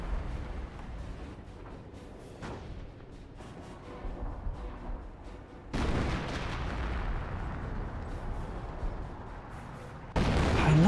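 Artillery fire in the World War II strategy game Company of Heroes: heavy booming blasts over a constant rumble of battle, with louder impacts hitting suddenly every few seconds and no voices.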